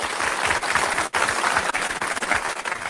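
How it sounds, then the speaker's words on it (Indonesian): An audience at a debate competition applauds both teams: a dense, loud wash of clapping that carries on without a break for the whole stretch, with no voices on top. "Sebelumnya mau tepuk tangan dong buat kedua tim."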